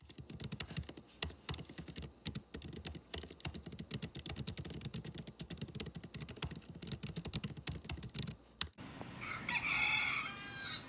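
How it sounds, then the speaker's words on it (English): Steady clicking of keyboard typing runs for several seconds, then stops and a rooster crows loudly near the end, marking the end of a writing sprint. "And just like that, the rooster crows, which means that this sprint is done"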